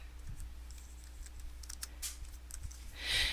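Computer keyboard typing a short phrase, a quick run of light key clicks, close and fairly quiet over faint room hum.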